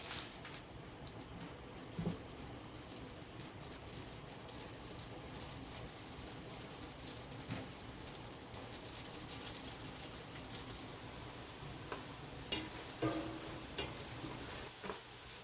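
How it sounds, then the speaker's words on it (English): Onion, garlic and a seasoning mix fry in two sticks of melted butter in a pot for a seafood boil sauce. A soft, continuous crackle and patter of sizzling runs throughout, with a few brief clicks and no voices. "my seasoning mix is in, onion and my garlic. And this is frying up very nicely"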